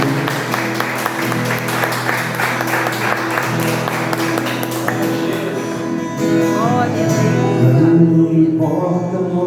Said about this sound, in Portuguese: E você aplaude o nome dele bem forte